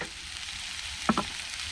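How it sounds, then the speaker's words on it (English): Chicken sizzles in a frying pan during a sea fishing trip at East Halton, a steady close fry with a couple of brief stirring clinks midway. "Sizzle, sizzle. Chicken dinner."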